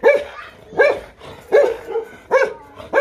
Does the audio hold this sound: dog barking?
yes